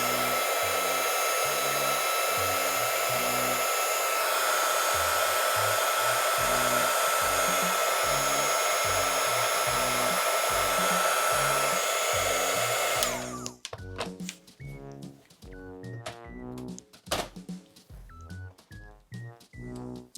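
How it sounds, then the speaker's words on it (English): A heat gun roars with a steady, loud rush of hot air over a mixed media steampunk card for about thirteen seconds, then cuts off, leaving rustling and handling noises. "Now I actually will have to reuse the heat gun."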